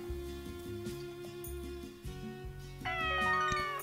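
Cartoonish cat meows from the farming game Story of Seasons: Pioneers of Olive Town, a few short mews over steady game background music, a brighter chime-like jingle entering near the end.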